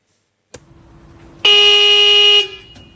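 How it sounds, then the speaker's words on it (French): Cab horn of a Potain MDT 219 tower crane on a building site gives a single loud, steady electric blast of about a second, preceded by a faint click and low hum. "Le klaxon."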